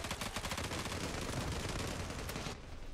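Rapid automatic gunfire from an M468 rifle in the shooter game Zula, a dense, loud burst of fast repeated shots lasting nearly three seconds before easing off.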